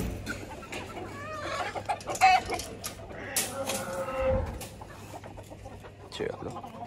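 Chickens clucking in a cage on a farm, several birds calling in short irregular bursts at close range, with a steady low hum and some rustling beneath.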